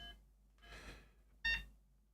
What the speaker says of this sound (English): Getting a lot of beeping.